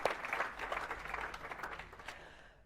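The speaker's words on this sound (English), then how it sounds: "So can we just do a bit of a clap for that" Conference audience at the opening session of a conference and expo clapping, a fairly faint, steady patter of many hands that fades out over a couple of seconds.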